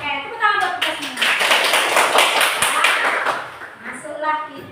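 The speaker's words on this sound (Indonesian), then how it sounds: "Oke, tepuk tangan buat kita semua." Group applause breaks out and carries on for several seconds as dense, loud clapping, with talk heard before and after it.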